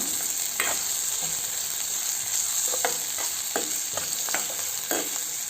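Chopped garlic, green chilli and onion frying in a pan for a white cow pea curry, with a continuous close sizzle and occasional spatula scrapes and stirs, no voices.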